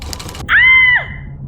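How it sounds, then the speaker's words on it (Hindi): A woman's sharp cry of pain in a Hindi horror audio drama, as her finger is caught in a sewing machine: one sustained, piercing scream lasting about half a second over a quiet background. "आकांक्षा के मुंह से चीख निकल गई"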